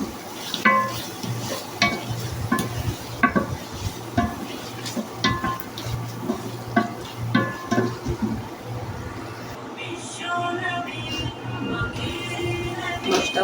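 Chicken pieces and potatoes sautéed for a coconut chicken curry, a steady sizzle with frequent scraping and clinking stirs of a spoon against the pan, continuous and close throughout.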